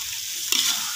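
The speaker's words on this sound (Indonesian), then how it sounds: "Kita aduk terus seperti ini" Shrimp curry with green beans and potatoes being stirred in a pan, a steady close sizzle with a brief scrape of the spoon partway through.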